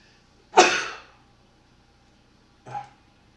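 A person sneezes once, a sharp burst in a quiet room, followed by a softer second sneeze or sniff a couple of seconds later.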